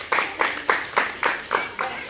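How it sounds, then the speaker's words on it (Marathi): A group of people in a school classroom clapping together in a steady rhythm, about eight sharp, close, evenly spaced claps in unison. "सगळ्यांसाठी आपण जोरदार एका टाळ्या वाजवूया।"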